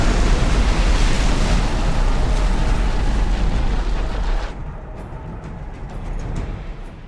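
A pyroclastic surge from a volcanic eruption in the film Pompeii roars as a loud, dense, rushing blast for about four and a half seconds, then drops to a lower, unsettled rumble.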